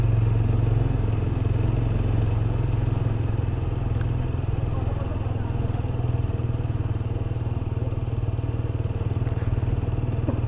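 A motorcycle with two riders climbing a steep mountain road from Siliguri to Gangtok: a steady, loud low engine drone and wind rumble run continuously, with faint rattles on top.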